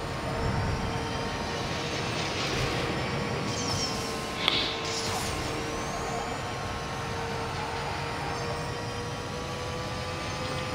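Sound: jet aircraft in Need for Speed No Limits video game

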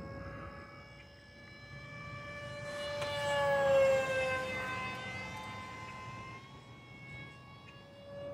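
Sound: Aeroscout S2 RC airplane motor flying

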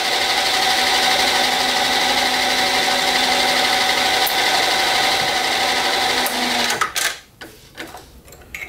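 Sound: machine tool reaming a hole with a reamer

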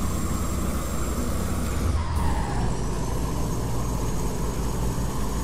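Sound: Volvo truck driving in video game Euro Truck Simulator 2

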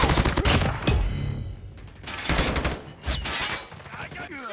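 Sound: gunfire in Call of Duty video game

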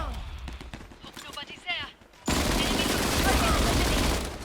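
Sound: gunfire in the video game Disorder

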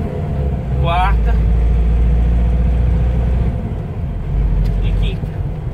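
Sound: pickup truck engine while shifting through gears

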